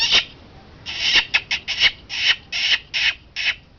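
A black partridge calls in a series of about nine sharp, harsh bursts, bunched into quick clusters with short gaps between them, clear and fairly close against a quiet background.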